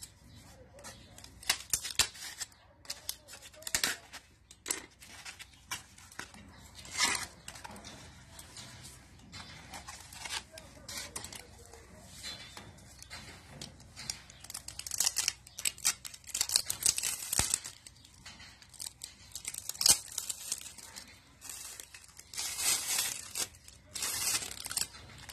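Cutting and tearing the packaging of a small cactus: irregular crisp snips of scissors mixed with ripping and crinkling, close up and moderately quiet, in short bursts with pauses between them.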